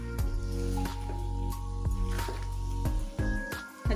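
A spoon stirs a soft fig and sugar dessert mixture in a pan, giving a series of wet squelching scrapes and clicks at an uneven rhythm over a steady low hum.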